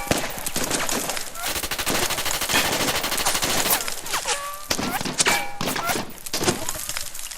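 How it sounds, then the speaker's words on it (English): Dense machine gun fire and rapid gunshots in a dramatic scene as people drop to the floor, loud sustained bursts with thuds, and some voices mixed in. "They, however, are not the ones shooting."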